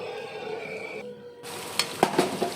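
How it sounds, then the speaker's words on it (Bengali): Spiced curry masala sautéing in a pan, with a steady sizzle and stirring scrapes, a short quiet gap, then a few sharper clinks and scrapes of the utensil near the end. "আর একটু কষানো হবে, আরেকবার একটু ঢেকে দিলাম।"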